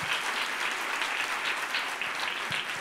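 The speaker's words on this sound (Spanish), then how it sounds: "Pues un aplauso para ellos que van a concursar ya." Audience applause for the contestants at a children's reading-aloud contest, a steady, dense wash of clapping throughout, fairly close and even in level, with no voices over it.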